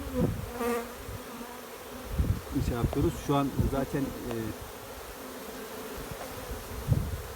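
Steady buzzing of many honey bees close by at a hive, continuing under a man's speech in Turkish.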